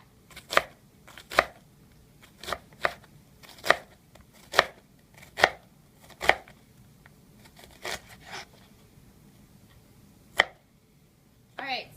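A knife chops through an onion on a cutting board in a series of crisp, evenly spaced taps, close and fairly quiet, with short pauses between strokes.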